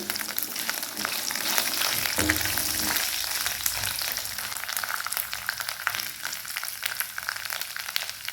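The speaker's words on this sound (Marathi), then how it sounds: "थोडीशी हिरवी मिरची भाजून घ्यायची तेलातच।" Green chillies fry in hot oil with ginger and garlic in a pan, a dense continuous hiss and crackle of sizzling, close and even, with a brief stirring scrape early on and no talking.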